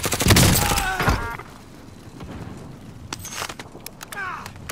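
Gunfire in Call of Duty Warzone: a dense burst of rapid shots at the start, then scattered sharp cracks and distant pops over a low game rumble, with players talking.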